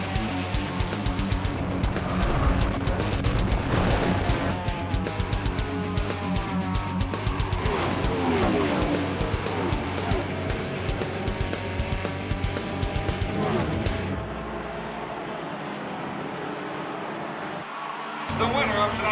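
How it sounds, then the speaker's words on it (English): Stock cars roaring around a short oval track during a restart at a pure stock feature race, engines loud and continuous with a crowd-like wash, the roar dropping away abruptly near the end. "The race starts over again, and DJ is stuck with the pack"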